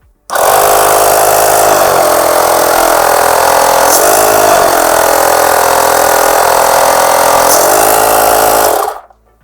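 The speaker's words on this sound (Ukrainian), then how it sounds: "Працює доволі шумно, але в той же час потужний потік повітря видає компресор, не дивлячись на свої компактні розміри" A Smartbuster ES225 portable 12V car air compressor runs loud and steady for about nine seconds, a harsh buzzing motor drone with slight dips in pitch, starting and stopping abruptly.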